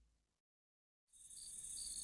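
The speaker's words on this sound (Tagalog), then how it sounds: "Wala masyadong ingay na sasakyan kundi mga kuliglig sa paligid." Crickets chirp steadily in a quiet countryside night after a brief silence, a dense high-pitched trilling chorus that sounds close and fairly loud with no voices.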